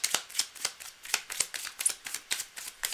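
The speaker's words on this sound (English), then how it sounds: "I'm going to keep shuffling." A deck of cards shuffled during a live tarot reading, a close, crisp riffling repeated in a steady rhythm of short bursts, with no talk over it.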